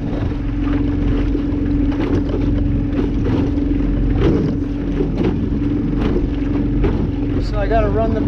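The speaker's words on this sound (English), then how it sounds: "So I gotta run the boat up there." An outboard motorboat runs in clear, shallow saltwater as it is driven up onto a sandy shore. The engine drones steadily and loudly throughout, mixed with wind buffeting the microphone.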